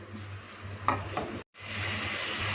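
A spoon stirs fettuccine Alfredo sauce made with yogurt and sausage in a pan, a soft sizzle under a few scraping strokes, broken by a brief gap of silence.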